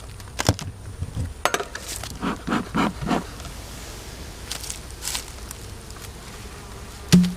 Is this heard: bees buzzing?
yes